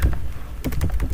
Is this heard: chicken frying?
no